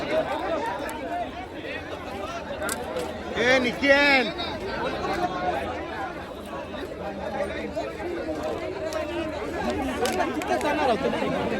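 A large, dense crowd at a bullock cart race ground keeps up a steady babble of chatter and shouting, with one or two voices rising louder nearby.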